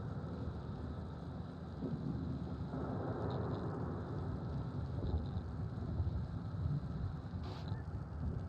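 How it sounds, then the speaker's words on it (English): A raging thunderstorm: a constant low rumble of wind and rain with distant thunder rolling underneath, steady and moderately quiet throughout. "The storm's raging."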